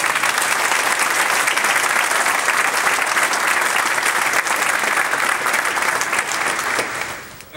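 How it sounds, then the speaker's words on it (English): Audience at a Wofford College event in Spartanburg, South Carolina applauds in a loud, dense, steady wash of clapping that carries on for several seconds before tapering off at the end. "You can give them all a round of applause."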